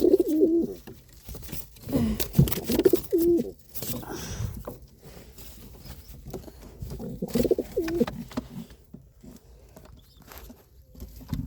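A pigeon coos in several soft, throaty bursts, close by, with quiet gaps and light background shuffling between the calls.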